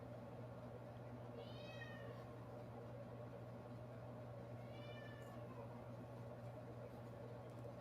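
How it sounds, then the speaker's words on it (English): Two faint cat meows, a few seconds apart, heard distantly over a steady low hum and background noise. "I can hear your cat in the back."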